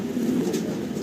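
Fancy pigeons with feathered feet give a low, soft, steady cooing murmur for about a second, close by and unbroken.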